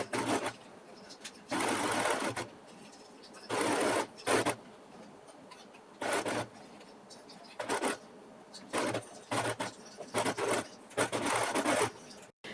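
A home sewing machine stitches corset pieces together in repeated bursts of rapid whirring, each lasting about a second, separated by short quiet pauses.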